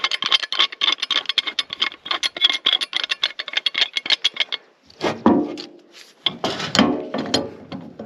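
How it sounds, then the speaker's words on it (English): A pipe wrench working a valve on a water line, a rapid run of close ratcheting clicks and scrapes for several seconds, then a pause and a few slower, heavier grinding turns. "I'm going to use this pipe wrench."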